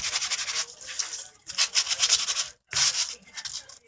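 Hand sanding of a book cover with sandpaper, rhythmic close-up rubbing strokes in bursts with short pauses between them.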